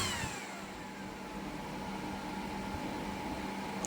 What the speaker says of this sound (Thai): แต่พัดลมดังได้ใจมากนะรุ่นนี้ดังวีดเลยทีเดียว